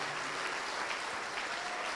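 A church congregation applauds steadily and evenly throughout, a dense crowd of clapping hands with no breaks or speech over it.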